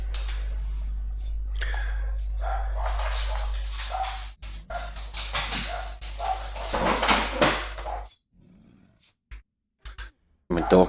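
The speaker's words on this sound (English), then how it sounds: "There's a dog behind us barking, living here." A dog behind a house barks in a few short, scattered bursts over a steady low electrical hum, mixed with background movement and a voice.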